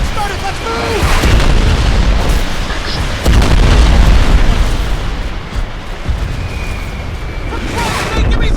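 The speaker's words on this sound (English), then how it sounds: "Airstrike started! Let's move!" Airstrike explosions in the video game Crysis Remastered, a series of loud, deep booms and rumbling blasts rolling through the whole stretch, with shouted in-game voices mixed in.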